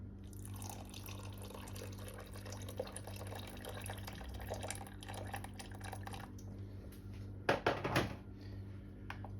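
Boiled and cooled water is poured in a home kitchen while making banana marshmallow, a low steady trickle with a short louder splashing burst near the end, faint overall.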